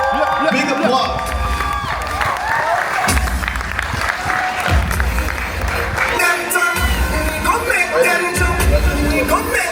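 An audience at an Island Music Conference panel cheers and applauds loudly as the three panelists are introduced, with whoops and crowd noise over a recurring deep rhythmic thump throughout.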